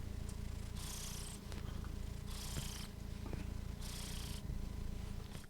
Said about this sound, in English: Look at this cat. He's just, you got to hear this.